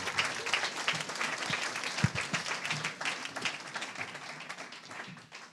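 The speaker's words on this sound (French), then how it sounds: "Vous pouvez les applaudir." Audience at a Paris 2024 Olympic and Paralympic Games conference applauds steadily, a dense, continuous wash of clapping that holds for several seconds before gently tapering off.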